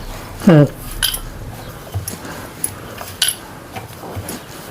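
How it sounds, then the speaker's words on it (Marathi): Metal containers clatter and clink in a home kitchen as they are taken off a gas stove, several sharp knocks and rattles spread across a few seconds, close by, with a brief voice-like tone near the start. "आणि हे डबे मी काढणार आहे"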